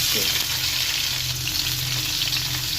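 A medium-sized fish frying in well-heated oil, a dense continuous sizzle that holds steady and close throughout with no talking.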